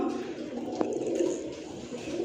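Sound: pigeons cooing

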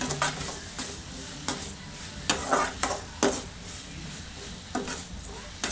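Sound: ridge gourd stirred and sautéing in oil

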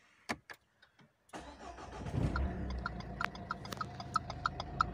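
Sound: Renault Scenic III fast indicator clicking from blown bulb

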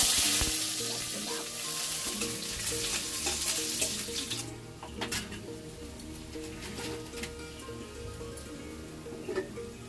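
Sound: tempering dried chillies, onion, cumin and bay leaf in hot oil

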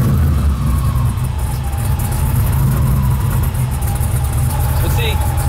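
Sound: Chevy car engine starting and idling

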